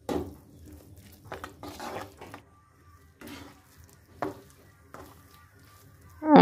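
Bottle gourd rice pudding with rice flour being stirred in a pot, giving repeated scraping, clinking strokes in bursts with pauses between them, close and moderately loud, ending in a sharper knock.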